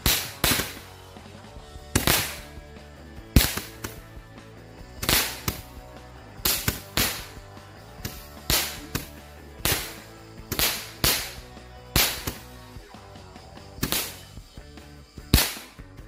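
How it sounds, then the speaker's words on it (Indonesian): Super-jumbo Roman Candle Gladiator fireworks launching during Lebaran celebrations: a long run of sharp, loud pops and cracks fired one after another at a quick, slightly irregular pace, each burst fading before the next. "Nanti bakal kita nyalain mercon Roman Candle yang super jumbo, Gladiator, dan berbagai jenis mercon lainnya."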